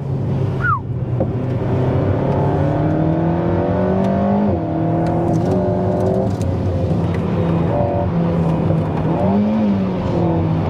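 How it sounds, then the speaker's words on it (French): An Alpine A110 R sports car engine drones and revs continuously close by, pitch rising and falling with gear changes; occasional sharp ticks and backfire pops over the steady roar. "il hurle un peu trop à mon goût le moteur"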